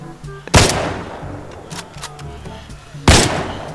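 Two sharp, loud gunshot blasts in the video game Arena Breakout, spaced a few seconds apart, with faint background game sounds between them.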